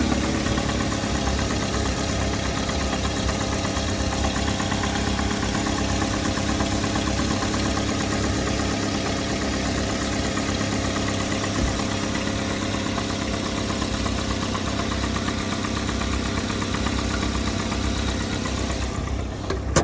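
A 2012 Chevy Malibu with an automatic transmission idles with the hood open, giving a steady, close, even engine drone with a faint ticking texture that holds unchanged for the full twenty seconds.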